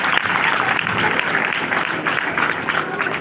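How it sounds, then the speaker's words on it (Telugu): A church congregation applauds the Jubilee Kids, a dense, steady wash of many hands clapping together throughout, loud and close with faint voices beneath. "ఒకసారి చప్పట్లు కొడదామండి."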